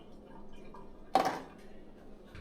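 Blood and water from chicken livers draining through a strainer in a sink: one short splashy gush of liquid in the middle of a quiet stretch, with faint dripping around it.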